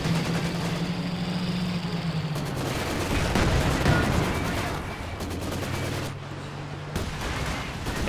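MG-34 machine gun fire in Company of Heroes 2 crackles in sustained bursts over a low engine drone and battlefield noise, loud and continuous.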